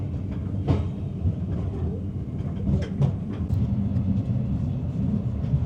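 Inside a moving train carriage in Kazakhstan, a steady low rumble of the wagon runs throughout, with faint rattles and a few sharp clicks and knocks from the car's fittings; no one speaks.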